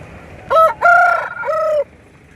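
Aseel rooster at the Gudur chicken market giving one loud, close crow in a few broken, harmonic phrases over a low background murmur.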